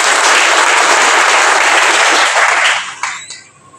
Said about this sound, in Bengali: আমরা তার জন্য একটি জোরে করতালি দিতে চাই।